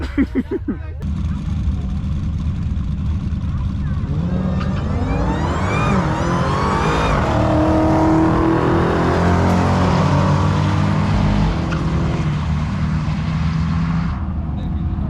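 Drag racing cars launching at a drag strip, a turbocharged 2JZ against a Dodge Hellcat, with loud engines roaring and rising in pitch as they accelerate away, then fading, while people talk and shout over it.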